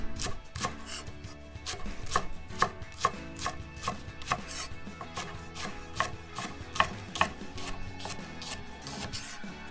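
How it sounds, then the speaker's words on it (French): A knife chops a leek into pieces on a cutting board, giving a steady run of crisp, close taps in quick rhythm with occasional louder strikes, heard alone with no talking. "Le poireau, même principe, on va le couper en morceaux à peu près de la même taille que l'oignon."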